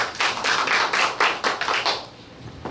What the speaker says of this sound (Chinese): 好，那我们掌声来欢迎张局长